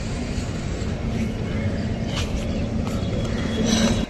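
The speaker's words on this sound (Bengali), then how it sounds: "এটা একটা মেমু লোকাল এখন চার নম্বর প্ল্যাটফর্মে ঢুকছে দমদমের" A MEMU local train rolls into platform 4 at Dum Dum station, a steady low rumble of wheels and motors with a faint tonal hum and scattered clanks from the railcars, continuous and close.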